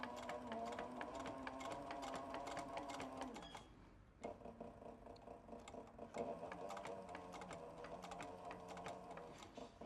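A sewing machine stitches leather piping into a classic leather duffel bag. It runs in steady, rapid mechanical bursts with a ticking needle rhythm, close and clear, pauses briefly near the middle, then resumes with no talking.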